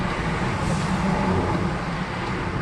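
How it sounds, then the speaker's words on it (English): Freeway traffic rushing past a broken-down truck and RV parked on the shoulder, a loud, continuous roar of passing cars and trucks close by. "We are on the side of the freeway, waiting for a tow truck"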